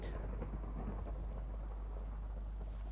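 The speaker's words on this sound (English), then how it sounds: "I hear thunder in game though." Thunder in a video game rolls as a deep, continuous rumble under steady rain hiss. It is loud and constant from start to finish, with no talking.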